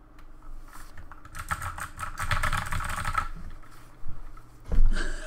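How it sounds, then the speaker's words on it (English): Rapid, frantic mashing of computer keyboard keys during a Warface game session, a dense clatter of clicks that swells and thins over several seconds, close and moderately loud with no talk. "I'm just spamming buttons."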